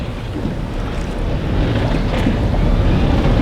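Strong wind of about 20 knots roars over the open sea aboard a fishing boat off Rhode Island. It is a loud, steady, broadband rush that builds slightly and is heard alone.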